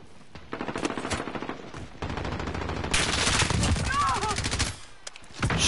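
Rapid machine gun bursts in Call of Duty: Modern Warfare, loud and sustained across several strings of fire, with players talking excitedly over the shooting.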